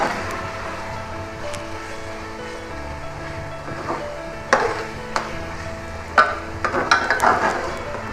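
Keema and peas being stirred and mixed in a pan: soft scraping and clinking of a utensil against the pan over a low steady background, with a few sharper knocks toward the end.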